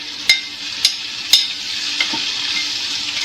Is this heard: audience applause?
no